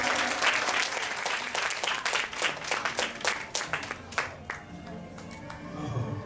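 Concert audience applause welcomes a young performer on stage, a thick burst of many hands clapping that thins into a few distinct claps before fading, with faint voices underneath.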